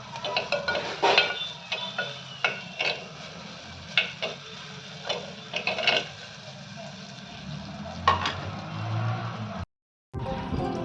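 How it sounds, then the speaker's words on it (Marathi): Spices fry in oil in a clay pot for a Kolhapuri tadka dal, with soft sizzling under repeated scraping and clinks of a spoon against the pot. "सर्व काही मसाला तेलामध्ये चांगल्यानं तळून घ्यायचा."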